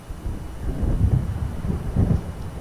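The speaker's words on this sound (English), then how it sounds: "It seems there's a storm coming." Low rolling thunder from an approaching storm in the Alan Wake video game, rumbling steadily over about three seconds with two heavier swells, deep and moderately loud, with faint rain beneath and no voices.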